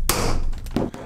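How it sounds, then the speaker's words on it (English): A punch hammered into a brass panel on a desk while scratch-building a large Alfa Romeo model, a few sharp close metallic taps in quick succession. "if you start hammering on this thing a little bit too late at night"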